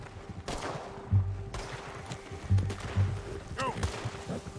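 Gunshots in Red Dead Redemption 2 come as several loud, punchy bangs spread across a few seconds, mixed with game background noise.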